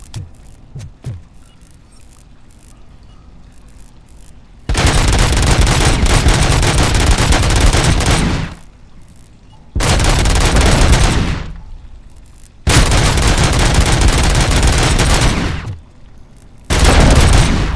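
Automatic gunfire in the video game RoboCop: Rogue City, set in sewers, comes as four long, loud, sustained bursts separated by brief quieter gaps with faint clicks and rattles.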